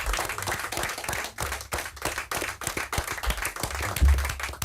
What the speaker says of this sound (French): Et on applaudit Lilia